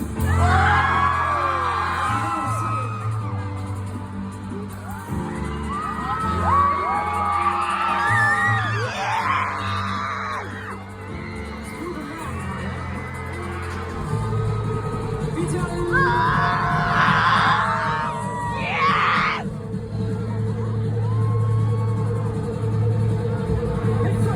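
Crowd noise fills a concert: scattered whoops, yells and screams rise and fall in bursts over a steady, loud background of music and cheering, with several sharper peaks of screaming.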